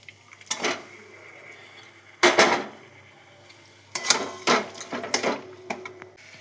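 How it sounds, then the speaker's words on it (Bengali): Marinated chicken tipped into a hot cooking pan, giving a few separate clattering bursts of metal and scraping spread across several seconds, fairly close, with quiet gaps between them. "এবার ম্যারিনেশন করা চিকেনটা আমি এর মধ্যে ঢেলে দেবো।"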